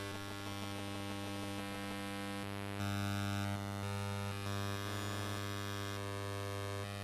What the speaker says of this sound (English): The sky is humming.